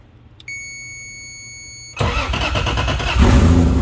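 A Toyota JZX100 engine is cranked with a power probe used as the starter: a steady electronic beep-like tone first, then a loud cranking that catches and rises into a strong running idle, close up.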